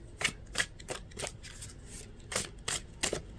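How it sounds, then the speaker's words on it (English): Tarot cards being shuffled by hand: a series of quick riffling bursts at an irregular rhythm, close and fairly soft, with no talking. "as I'm shuffling out these cards"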